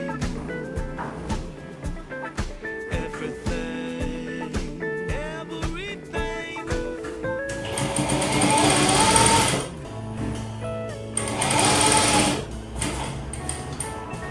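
A sewing machine joins the seam of a T-shirt bodycon dress in a rapid, rhythmic stitching clatter, running in short bursts with brief pauses and a louder, faster stretch near the end.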